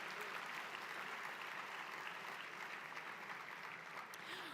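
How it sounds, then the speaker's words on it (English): Sustained, dense applause from a large audience at a women's luncheon, honoring people seated on the dais; steady and even throughout, with no speech over it. "let's give a big round of applause for every single person here on the dais this afternoon"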